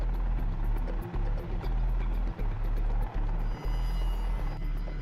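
A VH-3 Marine One helicopter in flight, with a loud, close, steady rotor drone and a regular thumping pulse from the blades, heard alone.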